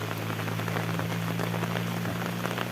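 Heavy rain pours steadily onto a surface, a dense continuous hiss with scattered drop impacts, and no voices.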